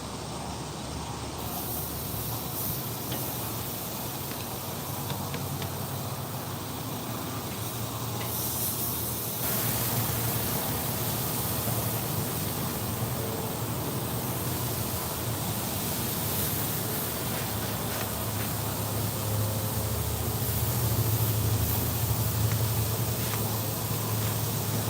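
Oiled center-cut pork chops sizzle over direct heat on a Weber kettle grill, a continuous broad hiss that stays steady and close for the whole stretch with no talk.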